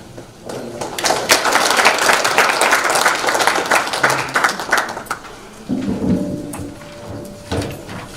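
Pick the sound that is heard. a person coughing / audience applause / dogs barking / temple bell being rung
audience applause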